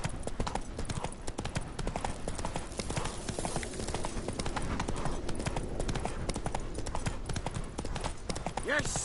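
Roach the horse trotting in The Witcher 3, a brisk, even clip-clop of hooves, close and loud throughout, with voices talking over it.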